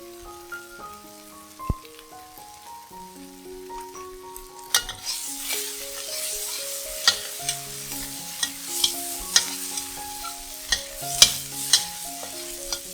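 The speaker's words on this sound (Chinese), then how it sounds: "再加入素蚝油炒一炒" Tofu stir-fried in a wok with soy sauce and vegetarian oyster sauce, a steady close sizzle broken by sharp spatula scrapes and clinks, with soft piano music playing underneath.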